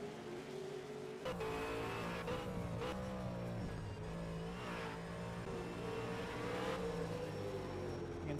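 V8 race car in a racing game at Sandown Raceway, engine revving hard as it accelerates through a corner, a loud continuous drone with rising and falling pitch and gear changes, no talking.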